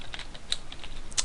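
Quick, irregular clicking of keys on a computer keyboard, close and moderately quiet, a steady patter of keystrokes with no voices.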